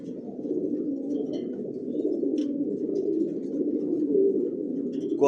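A grizzle racing pigeon sitting on its eggs coos in a low, continuous murmur, close and steady, with a slight swell near the end.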